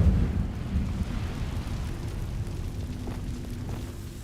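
An Incendio fire spell bursts in a Hogwarts Legacy duel, opening with a heavy whooshing boom that settles into a low, rumbling roar of flame fading over a few seconds.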